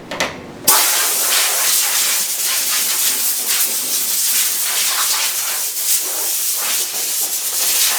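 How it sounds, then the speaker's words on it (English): A loud, continuous hiss of compressed air from an air hose blowing off forged wheels, starting after a brief short burst and continuing steadily with slight fluctuations. "Now we're going to hose them down with the air hose one more time"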